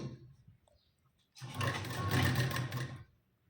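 A sewing machine runs in one steady burst of about a second and a half, stitching tucks on a size-32 katori blouse. Softer handling noises come before it, and nobody speaks.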